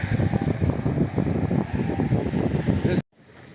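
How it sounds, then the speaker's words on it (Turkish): Low, steady cold wind buffeting against a tent, rumbling continuously for about three seconds before cutting off abruptly into near silence. "dışarıda hafif bir rüzgar çıktı biraz soğuk esiyor"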